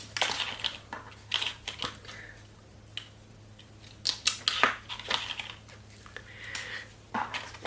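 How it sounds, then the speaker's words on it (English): Scissors snip out paper craft pieces in a series of close, crisp cuts and crinkling paper rustles, irregular and fairly quiet, with no voices. "We'll cut out the side hooks."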